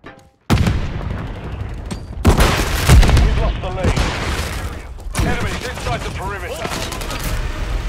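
Grenade blasts and heavy gunfire in Call of Duty Modern Warfare 3 multiplayer, a loud close boom followed by rattling bursts and further explosions, with game voice callouts over the din.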